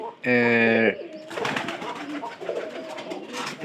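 A pigeon gives a short, throaty coo up close in a loft with straw nesting, followed by a person talking over a faint rustling background.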